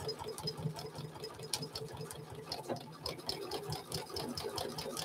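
Sewing machine stitching quilting lines inside a trapunto quilt, feed dogs raised halfway; a steady, fairly quiet mechanical whir with a fast needle patter running throughout, no voices.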